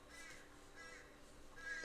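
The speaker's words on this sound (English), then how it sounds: "There's a very loud crow outside my window." A loud crow caws outside a window, picked up faintly indoors as a few harsh calls, with a distinct one near the end over quiet room tone.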